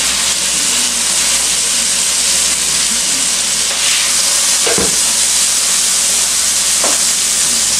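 A beef burger patty for a diner-style patty melt sizzles steadily in a hot pan, a continuous close, loud frying hiss with a couple of brief louder spits and clatters, no talking.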